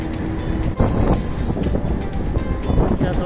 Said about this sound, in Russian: И вот такой поезд.